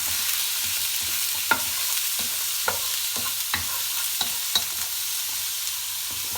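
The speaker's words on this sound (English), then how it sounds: "Alright, then we go with the beef. Give that a good stir." Beef for lomo saltado sears in a pan over high heat, giving a loud, continuous sizzle. Regular scraping knocks from stirring recur about every half second to second.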